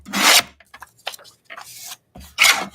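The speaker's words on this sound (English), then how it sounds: "So grab my trimmer and trim this to 4 inches" A paper trimmer slices a piece to four inches in short separate rasping strokes, close and fairly loud, with quiet pauses between each pass.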